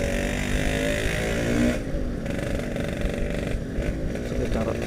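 A standard Yamaha RX King motorcycle rides along a road, its engine a steady loud two-stroke drone throughout, dipping slightly partway through as talk carries on over it.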